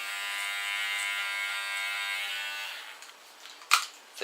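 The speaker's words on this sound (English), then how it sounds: "I put my clipper comb on." Electric hair clippers fitted with a clipper comb buzz steadily for about three seconds while cutting, then cut out, followed by a couple of small clicks and handling sounds.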